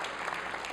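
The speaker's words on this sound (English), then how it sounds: "Go ahead, give a round of applause." Brief burst of audience applause at an Emmy Foundation honors ceremony, steady and dense with no distinct claps, fairly quiet and heard alone.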